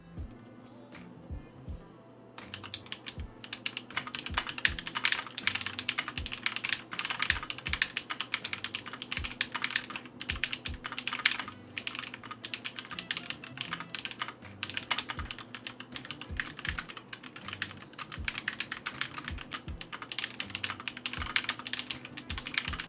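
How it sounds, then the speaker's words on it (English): Typing on a GMMK White Ice keyboard fitted with tactile Holy Panda switches and Matrix Pudding keycaps, a fast continuous stream of close, crisp clacks in uneven bursts, with a brief pause near the start and no voices. "now for the typing test with the Holy Panda switches."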